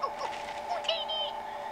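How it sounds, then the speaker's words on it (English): A phone text notification plays Star Wars Jawa chatter: quick high chirpy squeaks and babbling tones in a short burst over a steady background hum. "that sounded like a bunch of Jawas in the middle of our stream"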